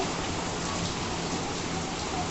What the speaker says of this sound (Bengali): দেখো মুষলধারে বৃষ্টি হচ্ছে